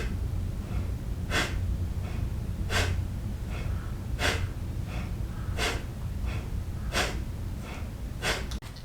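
Yoga belly breathing: a steady series of sharp, audible nasal breaths, about one every second and a half, close and clear over a faint background hum.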